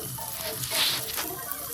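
Onions, garlic and ginger sizzle and crackle steadily as they fry in oil, with a brief brighter burst of hissing partway through and no talking.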